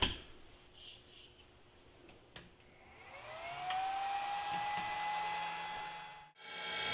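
A bench-mounted grinding wheel spins up on a lathe in a home workshop, starting with faint ticks and clicks, then a rising whine that settles into a steady, fairly loud tone before cutting off abruptly.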